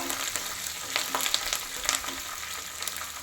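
Curry leaves frying on a low flame for garlic chutney, a continuous soft crackling sizzle with a few light stirring clicks, close and steady, no voices.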